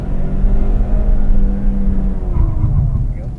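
A car engine on a driving track drones and revs loudly and steadily at close range during a morning driving session, while a coach talks over it.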